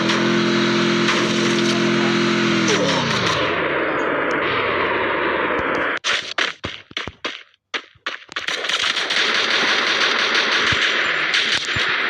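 Heavy gun in the Free Fire video game fires in loud, dense bursts of automatic gunfire. Midway the fire breaks into separate sharp shots with short gaps, then the sustained rattle returns.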